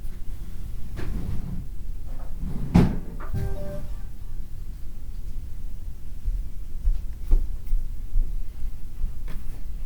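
A drawer is rummaged through in a quilting workspace: a couple of sharp knocks and sliding clunks, close by, followed by quiet room noise with no talking.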